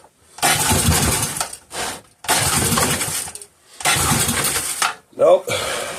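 A Briggs and Stratton 3.5hp small engine is pulled over repeatedly, giving three long loud cranking bursts separated by pauses, then a short sputter, close up.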